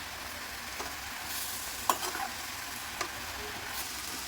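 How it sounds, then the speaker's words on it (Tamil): Fresh mint, coriander and curry leaves sauté in a hot pan, a steady gentle sizzle with occasional spatula scrapes and light taps as the leaves are stirred. "நல்லா வதக்கிக்கணும்."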